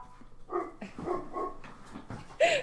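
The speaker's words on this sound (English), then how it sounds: "there's a dog outside my freaking window" Dog barking outside a window, a handful of uneven barks and yips at moderate distance, the last one sharper and louder, with no talking over them.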